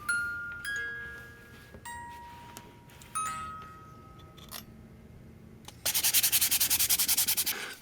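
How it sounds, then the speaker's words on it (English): Sanding the outside of a wooden music box by hand, a short burst of rapid rhythmic scratching strokes near the end, after quieter scattered taps and clicks. "I'm going to start off by just giving it a sanding on the outside"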